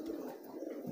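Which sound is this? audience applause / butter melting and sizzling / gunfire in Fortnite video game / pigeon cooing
pigeon cooing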